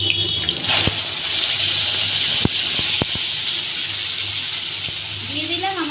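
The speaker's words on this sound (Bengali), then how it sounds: "দিয়ে দিলাম আমার বেটে রাখা মশলাটি এবং ভালোভাবে একটু নাড়িয়ে নেব।" Ground spice paste for Ilish vapa hits hot oil with nigella seeds, producing a loud, sustained hissing sizzle with a few sharp crackles and pops scattered through it.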